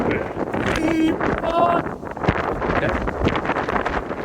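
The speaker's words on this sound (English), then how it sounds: "Oh, it's windy." Strong wind gusts buffet a climbing route high on a Colorado peak, a rough, broadband roar close to the microphone, with voices talking over it.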